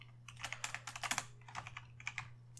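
Quiet clatter of fingers typing on a computer keyboard, a quick irregular run of key presses heard alone.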